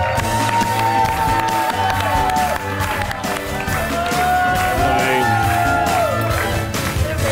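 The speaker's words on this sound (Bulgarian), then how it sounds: "аплодисменти, менти, менти за Тита! И вносни аплаузи за Свет!" A talk show studio audience applauds and cheers for guests Tita and Svet, the crowd noise steady and loud beneath blaring upbeat music throughout.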